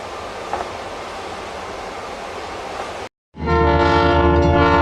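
A London Underground Jubilee line train, played back from a recording, rumbles steadily along the track, then after a brief cut to silence a loud, sustained horn blast sounds.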